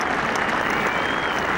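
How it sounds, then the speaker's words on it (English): Golf spectators at the 18th green of the 134th Open Championship at St Andrews applauding Jack Nicklaus, a sustained, even crowd clapping heard alone from a distance. "his fellow competitors lining up to lead the applause"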